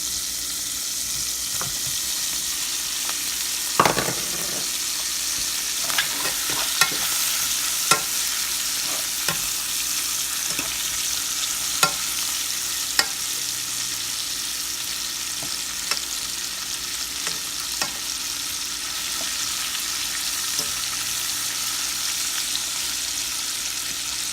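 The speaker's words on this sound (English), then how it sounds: "So next I'm going to add my smoked sausage." Smoked sausage frying in a pan for a rasta pasta with shrimp, giving a steady close sizzle with scattered sharp clicks and scrapes of stirring, plus one louder clatter early on, and no talking.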